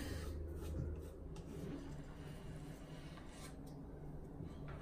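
A blade trims old silicone sealant off a bath edge during resurfacing, producing a continuous close, quiet rubbing scrape with brief swells and no talking.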